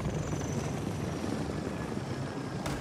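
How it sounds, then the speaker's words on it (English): A helicopter in a video game battle royale match, a steady rotor and engine drone at moderate loudness that continues without a break and has no voices over it. "there's a guy in a chopper, we gotta watch for that"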